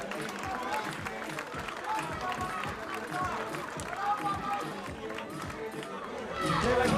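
Spectators at a FIBA 3x3 U17 Europe Cup basketball game fill the bleachers with a continuous crowd murmur, scattered shouts and rapid squeaking footfalls from the court, while a commentator talks over it.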